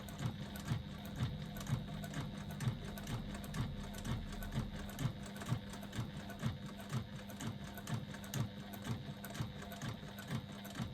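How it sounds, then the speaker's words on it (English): A sewing machine running steadily while top stitching 1/8 inch along the top edge of a sewn piece, a fast, even mechanical chatter with a regular pulse, close and fairly quiet, with no talking. "I'm top stitching at 1/8 of an inch."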